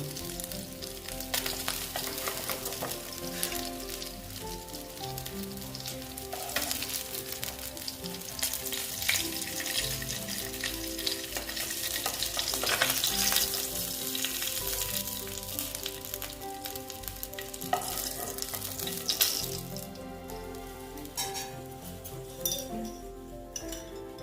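Koi fish frying in hot oil give a continuous loud sizzle and crackle, with frequent metallic clinks of a utensil against the pan as pieces are lifted out, and no talking.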